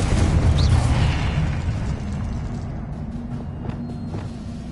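A Confringo fire spell explodes in Hogwarts Legacy on PS5: a loud, deep boom at the start that rolls into a long, fading rumble with scattered crackles.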